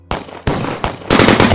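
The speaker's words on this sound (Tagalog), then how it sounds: "Putok rito, putok roon ang maririnig sa paligid." Gunfire sound effects in an audio drama, with three sharp separate shots followed by a denser burst of rapid fire, loud and close with no talk.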